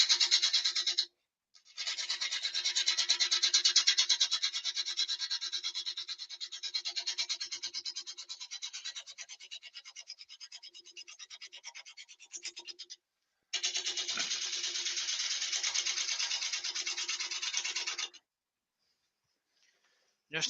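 A half-inch bowl gouge cutting wood on a lathe, a steady raspy scraping hiss in long sustained passes, broken by short pauses and a longer stop near the end.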